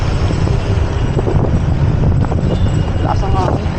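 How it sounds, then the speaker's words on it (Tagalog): Strong wind buffets the microphone during a bicycle ride in the rain, a loud continuous roaring rumble throughout, with voices talking faintly underneath. "Lakas ang hangin."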